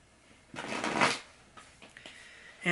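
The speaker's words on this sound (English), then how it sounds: "I'm going to shuffle the cards here for a second." Tarot cards being shuffled by hand, a brisk riffling burst lasting about half a second, followed by a few softer card taps and slides, close and fairly quiet.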